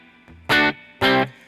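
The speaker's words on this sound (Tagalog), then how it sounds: "ito yung dry signal niya" A dry electric guitar signal played through a Vox amp plugin in Logic, heard as two loud, sustained strummed chords preceded by a softer note, close and with no talking over it.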